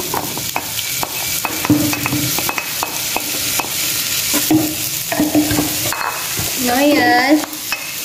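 Sweet corn, sausage and meatballs stir-fried in a pan, a continuous sizzle with repeated sharp spatula taps and scrapes, close up, with a brief spoken word near the start.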